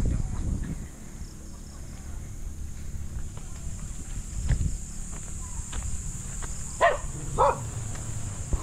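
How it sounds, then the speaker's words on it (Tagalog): A couple of dog barks in the distance, brief and spaced apart, over quiet outdoor ambience with a few soft thumps and footsteps. "Uy, may aso."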